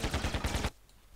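A video game gun fires a rapid burst of about seven loud, close shots in quick rhythm, then cuts off abruptly, leaving a quiet tail.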